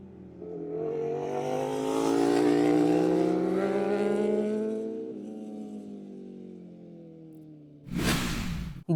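A racing motorcycle engine rises in pitch and fades over several seconds, followed by a brief loud whooshing burst near the end, heard alone without talk.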